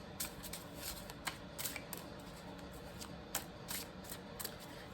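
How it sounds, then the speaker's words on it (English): Tarot cards are shuffled and pulled in a series of soft, close flicks and riffles, irregular and faint against a quiet room. "Let me pull some more cards"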